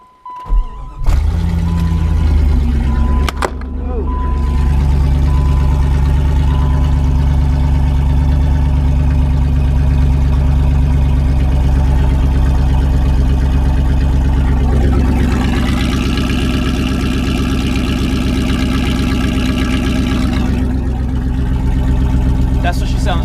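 A car engine with a damaged, removed muffler starts and then idles with a loud, steady, throaty drone that swells slightly partway through and continues alone without talk.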